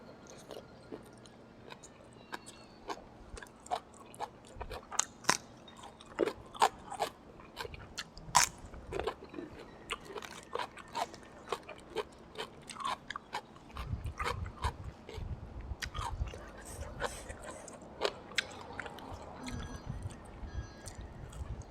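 Someone eating grilled pork with sticky rice up close, soft wet chewing with frequent crisp bites and crunches, quiet and irregular, heavier mouth sounds toward the end.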